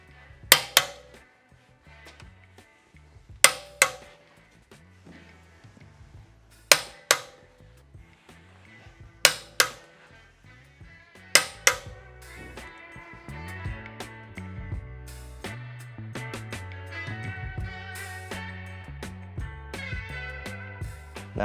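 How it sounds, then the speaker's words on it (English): Sharp metallic clicks and clanks from a torque wrench tightening titanium lug nuts on 21-inch forged wheels of a Tesla Model S Plaid, a handful of loud isolated hits followed by a steadier rattling and whirring stretch. "we'll fully torque the lug nuts to spec"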